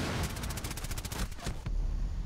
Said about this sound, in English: They're shooting from the hostage room